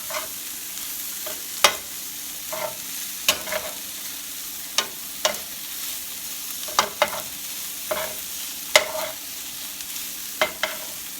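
Keto breakfast burrito filling stirred and browning in a pan: scattered scrapes and clacks of the utensil over a steady low sizzle, close and moderately quiet, with no talking.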